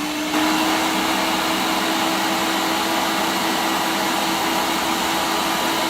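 A food processor pulses cocoa powder and coconut, giving a loud, steady motor whine that runs almost the whole time after a brief quiet start, with no talking.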